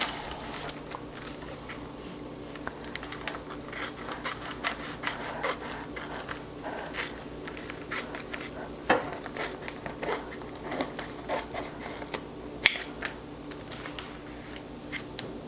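Quiet, close-up snipping and crinkling as a thin plastic baggie is cut open, a string of small clicks and rustles with no talking.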